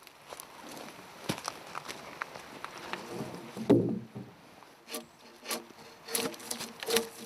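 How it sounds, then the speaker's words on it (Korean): Pine logs are carved by hand for the rafters of a clay house, giving quiet scraping and rasping strokes with occasional knocks and thumps of wood, steady and close but faint. "본격적으로 석가래에 쓸 소나무를 깎기 시작했다"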